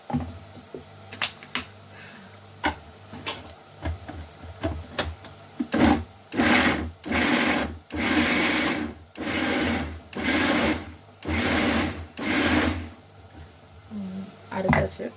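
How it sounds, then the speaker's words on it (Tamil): Mixer grinder blending five or six large tomatoes into a smooth paste, running in repeated loud whirring bursts of about a second each after a stretch of small clicks and taps, with speech early on. "நல்லா இதையும் நைஸாக வெங்காயம் அரைச்ச மாதிரி அரைச்சி எடுத்துக்கலாம்"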